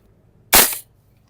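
One sharp, loud crack comes from a VFC gas blowback airsoft rifle test-fired indoors, a single close shot with a brief hissing tail and quiet before and after.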